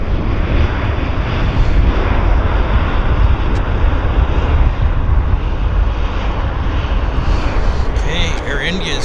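A Q400 turboprop airliner lands at Vancouver Airport with a loud, continuous engine and propeller roar that holds steady the whole time.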